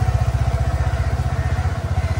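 Motorcycle engine running at idle before a ride to school, a close, loud, rapid even putter throughout.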